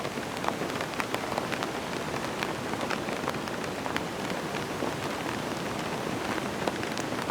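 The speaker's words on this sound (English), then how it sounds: "every time I do I'm getting rained on" Heavy rain drums steadily on a camping tent, a dense, continuous patter of close drops with no let-up and no voices.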